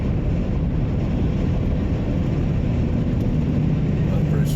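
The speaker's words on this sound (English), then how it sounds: "Traffic helicopter up ahead." Steady low rumble of a news traffic helicopter passing overhead, heard from inside a moving car on a road trip, blended with road and wind noise throughout.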